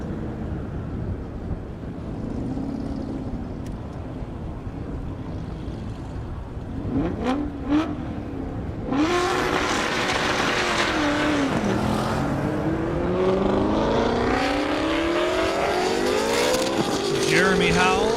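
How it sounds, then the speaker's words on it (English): At an airstrip drag race, a Mustang and a Mercedes-Benz thunder down the half-mile, engines roaring loud from the start and rising as they accelerate and pass, while an announcer talks over the run. "Jeremy Howell, Mustang. Peter in the Benz. Wow, that Mustang's moving."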